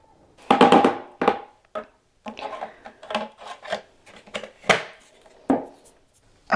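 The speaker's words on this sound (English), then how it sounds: "tap loose dirt off filters between washes as needed" Shark Ultralight vacuum filters tapped to knock loose dirt off, giving a series of close, dry, irregular knocks and rubbing sounds spread across several seconds with short pauses between.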